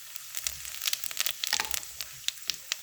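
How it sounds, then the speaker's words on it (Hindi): A tablespoon of cumin seeds sizzles in hot ghee in a pan, with dense crackling pops and spits over a steady frying hiss, close and alone. "ये गाइस घी गरम हो गया, अब इसमें डाल देंगे 1 टेबल स्पून ज़ीरा।"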